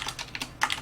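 Keys clack on a computer keyboard while Java code is typed, a quick uneven run of about six close, crisp keystrokes with a slightly louder burst near the end.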